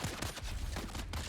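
Rapid gunfire from a weapon in the survival game Dune: Awakening, a dense burst of close, sharp shots in quick succession lasting just over a second.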